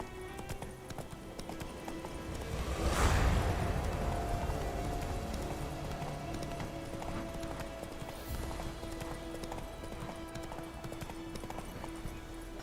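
Hooves of Roach, a horse in The Witcher, clip-clop in a steady run over a constant game background of low drones and tones, with a louder rush of movement early on.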